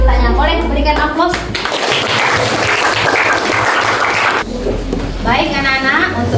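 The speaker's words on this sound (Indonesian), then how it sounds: "Boleh berikan aplaus." Schoolchildren in an Indonesian classroom break into loud, sustained applause, a dense wash of clapping between stretches of a teacher talking before and after.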